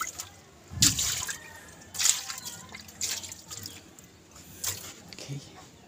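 Water poured and splashing in short bursts, several separate gushes spread over a few seconds, near and fairly loud, with soft background noise between them.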